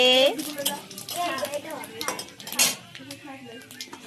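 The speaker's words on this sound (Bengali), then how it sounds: "তারপরে পড়লো পাঁচ ফোড়ন। একটু নাড়াচাড়া করে নিয়ে দিতে হবে" A utensil scrapes and clinks against a pan while panch phoron spices are stirred, with light sizzling and a voice speaking over it.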